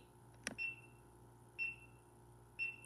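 A camera self-timer beeping outdoors in a quiet setting: three short, faint high beeps about a second apart, with a small click before the first.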